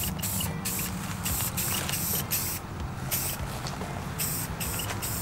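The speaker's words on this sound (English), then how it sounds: "and then spray some black." Close aerosol spray paint applying black to a mini bike part, hissing in rapid short bursts with brief gaps, loud and with no talking.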